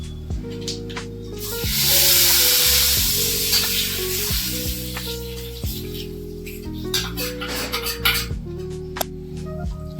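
Cumin, asafoetida, turmeric and red chilli sizzle loudly in hot oil for a kadhi tempering, a continuous crackling hiss with metallic scraping and tapping from stirring throughout.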